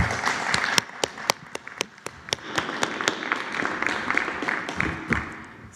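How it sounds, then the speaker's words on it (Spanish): Sparse applause at a press conference, a small group clapping in scattered, sharp individual claps that thin out over several seconds, moderately distant. "Un aplauso."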